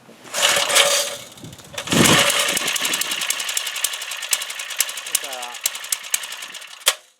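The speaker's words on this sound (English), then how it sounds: "It's a Briggs and Stratton, isn't it?" A Briggs and Stratton engine on an allotment runs with a loud, rough mechanical clatter. It bursts up, settles into a rapid, even chugging pulse and then cuts off sharply, with people talking nearby.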